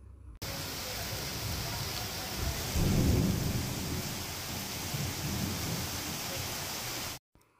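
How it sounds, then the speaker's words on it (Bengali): Heavy downpour in a home courtyard, a steady dense hiss of rain hitting the ground that swells briefly louder midway, with a low rumble underneath, close and continuous with no one talking. "এই যে বৃষ্টি হচ্ছে, এটা কিন্তু আমাদের বাড়ির"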